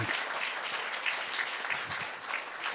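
Audience applause at an international forum on Europe–Asia cooperation, a sustained, moderately loud wash of many hands clapping in a hall, even and unbroken.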